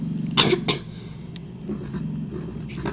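Two short, raspy throat-clearing bursts close by, followed by quieter breathy throat sounds and faint background hum.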